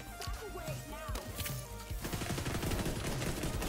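Rapid gunfire during a PvP video game match, starting with scattered shots and sound effects and then becoming a dense, fast automatic burst for the final stretch, fairly quiet overall with faint talk.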